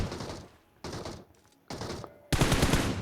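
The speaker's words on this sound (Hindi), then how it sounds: "पीछे से भाई फायर आता है डीपी का" DP-28 light machine gun fire from behind in PUBG Mobile, arriving as several loud automatic bursts separated by short pauses, with the final burst closest and heaviest.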